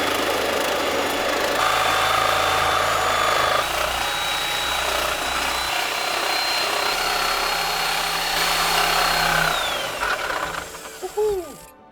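A power saw blade grinds through a car steering rack, a loud, steady, near cutting whine with a high tone that runs on and drops away near the end as the blade winds down.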